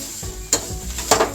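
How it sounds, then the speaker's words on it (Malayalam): Grated coconut roasting in a pan for a Kerala-style tuna fish curry, heard as a soft steady sizzle with a few sharp scraping stirs of a spoon, close by and without speech. "തേങ്ങ ഇട്ടിട്ടുണ്ട്. അതിന് നല്ലതുപോലെ വറുത്ത് ബ്രൗൺ നിറത്തിൽ"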